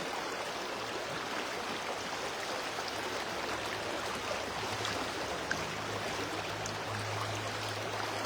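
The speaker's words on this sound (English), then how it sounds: "the river is sounding amazing" A river rushing over rocks, a steady broadband roar of flowing water close by, constant and even throughout with a faint low hum underneath and no voices.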